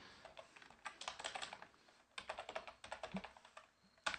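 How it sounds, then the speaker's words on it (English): Typing on a computer keyboard while entering a server configuration line, heard as quick irregular bursts of close, crisp key clicks with short pauses between them and no talking. "just go ahead and just type this in"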